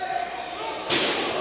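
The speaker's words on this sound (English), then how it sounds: "He just Superman punched him through the trash cans." A wrestler is punched through trash cans at a wrestling event, making a sudden loud crash that gives way to a sustained noisy wash after a quieter stretch.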